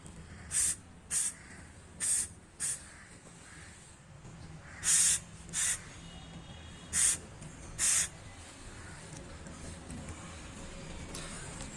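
Aerosol spray can laying a light first coat of paint on brake calipers, heard as about nine short, close hissing bursts separated by pauses, with no talk.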